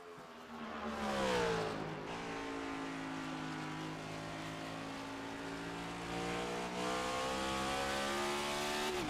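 A race car at Lakeland in the Prestige Cup Series, heard close, with its engine note rising, briefly dropping as the throttle eases, then climbing steadily and holding a smooth, restrained drone through corner exit.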